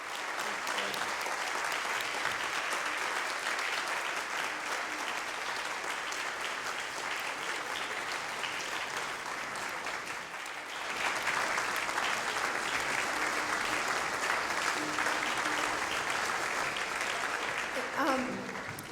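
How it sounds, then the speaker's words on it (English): Sustained applause from a large crowd at a Sunday church worship service, steady and full throughout, swelling slightly louder partway through. "let's give a huge round of applause to Gib and Jen"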